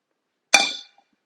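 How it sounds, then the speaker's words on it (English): Metal simmer basket of a Thermomix TM6 set back into its bowl, giving a single bright clink with a short ringing decay, close and otherwise silent. "if you put the straining basket back in, or the simmer basket"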